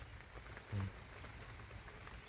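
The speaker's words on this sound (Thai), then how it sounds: "ฝนตกฟ้าลง นี่แหละนะพี่น้อง บรรยากาศฝนตก" Rain falls during a storm around a hut, making a quiet, steady hiss of drops on the surfaces nearby, with one slightly louder patch partway through.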